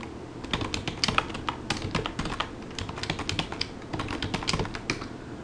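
Rapid, irregular keystrokes clatter on a computer keyboard while someone enters a name into a Ruby interactive console, close and fairly quiet with no voices.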